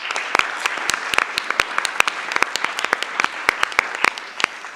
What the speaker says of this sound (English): So I want to start with a round of applause